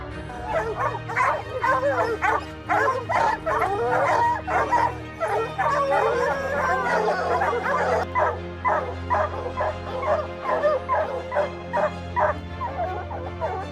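A pack of boar-hunting dogs barks loudly and continuously at close range, with overlapping yips and whimpers in a rapid, frantic rhythm.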